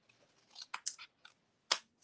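Scissors snip through paper at a craft table, a few quiet irregular cuts followed by one sharper louder snip near the end, with no talking.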